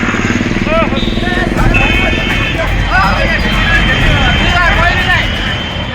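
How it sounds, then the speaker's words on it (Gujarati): Motorbikes rush past on a crowded street during a BJP road show in Dhanera, Banaskantha, engines revving and droning close by, with steady crowd chatter and shouting over the traffic noise. "બાઇક ચાલકો પૂરપાટ જઈ રહ્યા છે"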